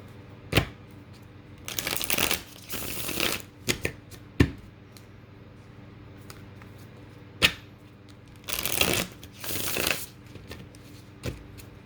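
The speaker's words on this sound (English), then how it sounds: "One more shuffle." Several bursts of tarot cards being shuffled, riffled quickly with short pauses between, with a few sharp taps and snaps in between, close and clear.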